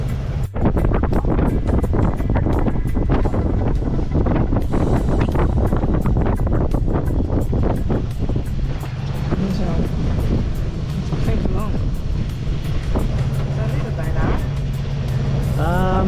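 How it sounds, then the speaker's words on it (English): Strong wind and waves batter a sailboat off Jamaica's west and north coast, a loud, continuous roar of gusting air and rushing water close to the microphone throughout. "Right now with the wind being the way it is and the waves"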